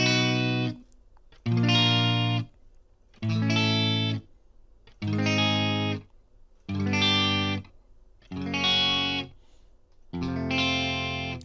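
On guitar, an F barre chord stretch exercise is played as seven evenly spaced sustained notes, each ringing about a second with short gaps between, at a slow, steady pace with a bright, slightly processed tone.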